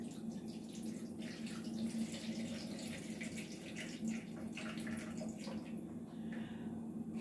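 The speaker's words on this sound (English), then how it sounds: "we're going to pour off that first water." Cloudy rinse water is poured off jasmine rice, pouring and splashing quietly from a container, a soft continuous trickling with small drips and faint clinks, no talking.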